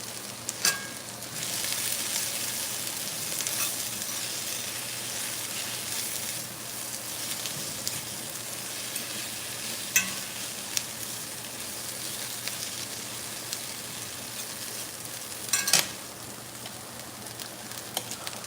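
Onions frying in butter in a pan for hamburger steak, a steady moderate sizzle running throughout with a few faint clicks and stirs, close and without talk.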